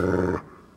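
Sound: dog growling in Fragile Dreams video game

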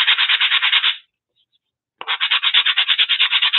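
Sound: sanding a wooden piece for decoupage

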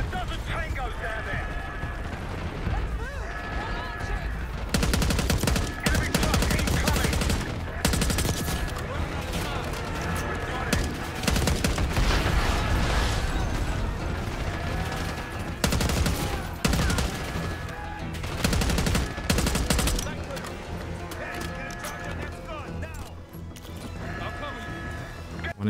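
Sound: gunfire in video game Call of Duty Black Ops 6

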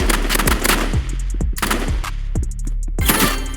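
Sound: gunfire in the video game Roblox Rivals

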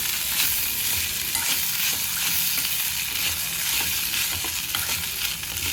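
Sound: stirring poha upma in a pan

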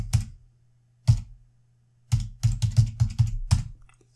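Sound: typing an IP address on a computer keyboard

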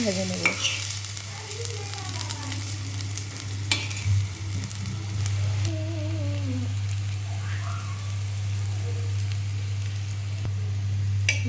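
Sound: mustard-flower fritters in rice-flour batter frying in oil

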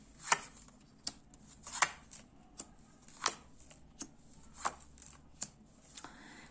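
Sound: shuffling playing cards

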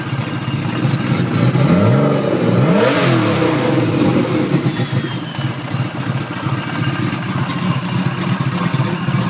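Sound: BMW E36 M3 engine revving with BavSol S3 cams

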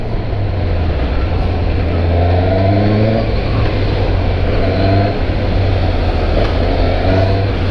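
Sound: Suzuki GSX-S 750 motorcycle engine revving

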